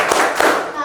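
Hands clapping in a classroom focus-clapping game, a couple of quick sharp claps within under a second, with a voice mixed in.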